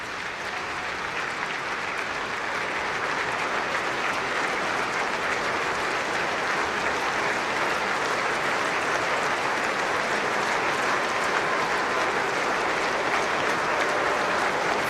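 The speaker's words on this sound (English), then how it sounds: "you can hear the applause and support for the Dawson family" Stadium crowd at an Adelaide vs St Kilda AFL match applauds in support of the Dawson family, a steady, dense roar of clapping that holds evenly for the whole stretch, broad and distant-sounding, with no voices standing out.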